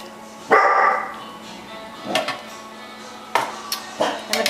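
A dog barks in a home kitchen where short ribs are being braised, with a few separate sharp barks spread out at moderate distance, alongside faint clinks of pots and pans.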